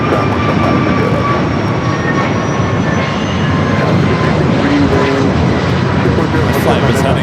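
A fixed-wing aircraft at Los Angeles LAX airport on a flight to Honolulu gives a steady, loud engine roar and rumble that holds throughout, with faint voices underneath.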